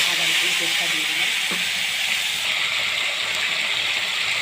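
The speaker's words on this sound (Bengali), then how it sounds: "তেলটা আমার গরম হয়ে গেছে, বেটে রাখা আদা রসুন পেস্টটা দিয়ে দিলাম।" A ginger, garlic and onion paste hits hot oil, giving a loud, constant hissing sizzle throughout, with a few faint clinks early on.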